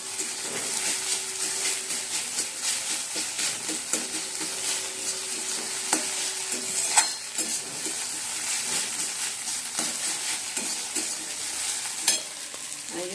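Carrot, cauliflower, onion and egg sizzle steadily in a pan while a utensil scrapes and taps repeatedly, stirring with irregular clinks, close and moderately loud.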